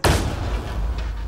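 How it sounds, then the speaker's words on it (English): An explosion in Mass Effect Andromeda goes off with a sudden loud boom, then a rumbling tail that fades over about a second, with no voices. "Curious how this explosion waited for me to come upon it."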